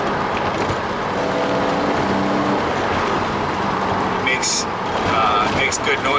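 A Porsche Boxster Spyder with a flat-six engine cruises on the highway, giving a steady engine drone mixed with road and traffic noise, with other vehicles passing nearby.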